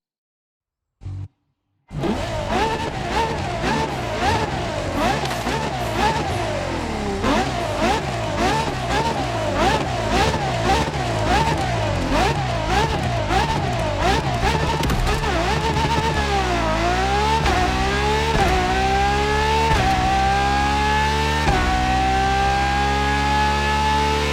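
LaFerrari hybrid supercar in The Crew Motorfest, a loud engine that starts abruptly and revs hard through repeated rising sweeps and gear changes, close and continuous.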